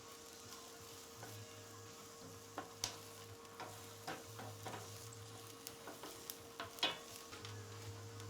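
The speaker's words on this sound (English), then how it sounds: "we'll go ahead and add that garlic in and start cooking that down too" Onions and minced garlic sizzle softly in a pan at a campsite, a quiet steady fry broken by scattered clicks and taps of stirring.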